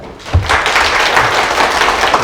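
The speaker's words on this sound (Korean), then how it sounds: "그럼 오늘 이용호 단장님 큰 박수부터 부탁드리겠습니다." Seminar audience at a Korean quantum computing technology talk claps for an incoming speaker, a dense, close, fairly loud burst of applause that starts abruptly and stays even for about two seconds.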